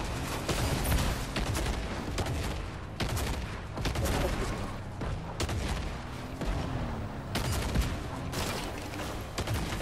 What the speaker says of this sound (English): keep shooting, Rosaletto. Shoot the target.